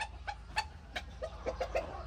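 Short clucking calls from a Tre Mỹ F1 gamecock on a farm in Tây Ninh, several brief close clucks spaced irregularly over a low steady background hum.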